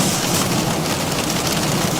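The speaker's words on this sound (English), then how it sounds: "you can hear the rain pelting the aircraft" Rain pelting an aircraft in a flight simulator, a steady loud hiss of dense drops drumming on the fuselage, unbroken and even throughout, with no talk over it.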